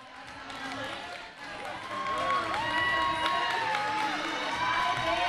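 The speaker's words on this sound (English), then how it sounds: "Listen to that crowd." Large crowd at a cornhole tournament roars and cheers continuously, loud and sustained with shouts and whistles rising, swelling louder in the second half.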